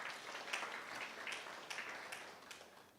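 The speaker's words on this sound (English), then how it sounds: "Warm round of applause to the VC and his advisor." An audience claps at a gala dinner, a faint and fairly brief round of applause that fades slightly toward the end.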